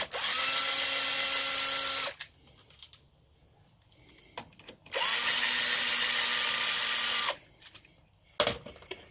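A power drill or impact driver removes clutch cover bolts on a first-generation Suzuki Hayabusa motorcycle, running in two loud sustained whirring bursts separated by quieter clicks and handling noises, close by.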